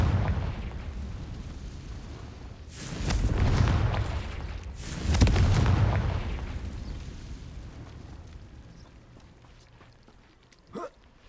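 Two heavy blasts from the Confringo fire spell in Hogwarts Legacy, each a booming, rumbling burst that swells and decays over a couple of seconds, followed by a low rumble that fades and a brief sharp pop near the end.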